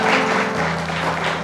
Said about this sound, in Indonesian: Tepuk tangannya boleh lebih meriah lagi Bapak Ibu hadirin sekalian